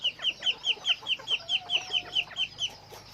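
A young Thai fighting rooster clucks in a quick, evenly paced run of about a dozen short calls, close and clear, with a faint thin whistle beneath the middle of the sequence.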